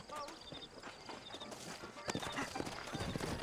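Horse hooves clip-clop on the ground in the video game Red Dead Redemption, set in the frontier region of New Austin, with a steady walking rhythm under game ambience and a brief whinny, all fairly close.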